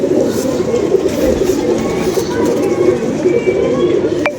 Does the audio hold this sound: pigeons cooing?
yes